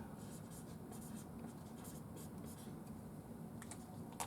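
Faint scratchy strokes of a pen writing on the clear plastic backing of an Ikonart stencil, short quick scribbles in uneven bursts, quiet and close with no talking.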